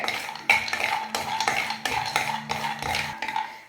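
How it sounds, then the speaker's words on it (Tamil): Almonds dry-roasting in a pan over medium flame, stirred with a metal spoon: repeated close, clattering scrapes and knocks against the pan in a steady rhythm, with no talking. "சேர்த்துட்டு ஒரு 2 நிமிஷம் நான் மீடியம் ஃப்ளேமில் வச்சுட்டு இதை வறுத்துக்கிறேன்."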